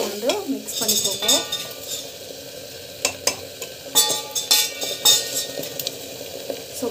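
Food being stirred and mixed in a pan with a utensil, giving irregular metallic clinks, scrapes and knocks over a soft sizzle, close by and without speech.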